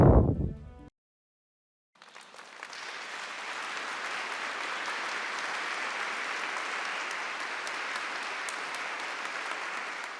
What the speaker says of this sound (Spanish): Los miembros de la familia Paulina recibieron al Papa con un fuerte aplauso en cuanto entró en la sala clementina